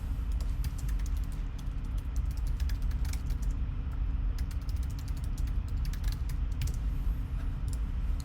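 Quick, continuous typing on a computer keyboard while writing in Google Docs, crisp close key clicks in an irregular rapid rhythm over a low background hum, with no talk.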